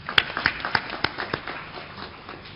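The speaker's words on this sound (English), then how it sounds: "A big round of applause for our founder," Audience applause for the company founder at the Reliance Communications 2016 annual general meeting, a brief run of distinct, fairly sparse claps that quickly thins and fades, heard in a muffled, band-limited recording.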